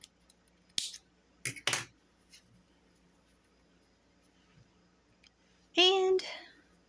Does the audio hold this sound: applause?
no